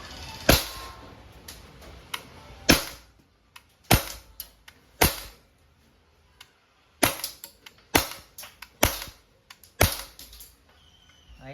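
Umarex Glock 17 Gen 3 dual-ammo airgun firing lead pellets, about a dozen sharp close snapping shots spaced irregularly with short quiet gaps between.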